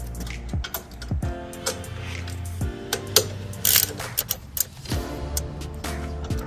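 A ratchet wrench tightens the bolts of an engine guard crash bar on a Victory Judge motorcycle, with bursts of close mechanical clicking and a few sharper metallic knocks between short pauses.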